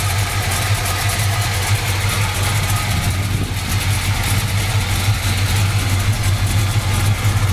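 A 1969 Plymouth Road Runner with a built 383 V8 idling steadily, a loud, close, deep rumbling burble that holds an even rhythm throughout with no talking.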